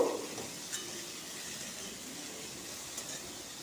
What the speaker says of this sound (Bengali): ছোড়া ডালটা দিয়ে আরও খানিক্ষণ ভেজে নেব